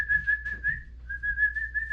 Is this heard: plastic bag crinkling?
no